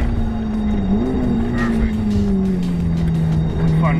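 Supercar engine at a racetrack downshifting under braking, a loud steady exhaust drone that dips and blips in pitch as gears drop, with a driving instructor talking over it.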